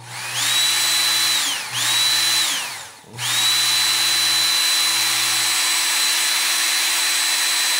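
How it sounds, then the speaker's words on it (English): A Ken Onion knife sharpener drives a 3/4 x 12 leather honing belt as its motor whines up to high speed, dips briefly twice, then holds a loud, steady electric drone. "I'm going to run it up to high speed because stropping is always more effective at high speed."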